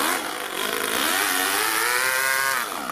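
A two-cylinder four-stroke overhead-cam engine fitted in an RC crawler car runs loud and close, revving steadily so its buzzing pitch climbs and falls smoothly for the full three seconds.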